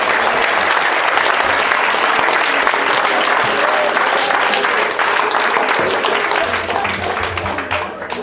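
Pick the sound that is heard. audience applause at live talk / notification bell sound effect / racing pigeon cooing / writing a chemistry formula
audience applause at live talk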